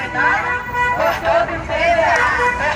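Car horns toot repeatedly amid a noisy crowd of voices and traffic at a teachers' protest blockade, loud and close, with several honks overlapping in a street scene.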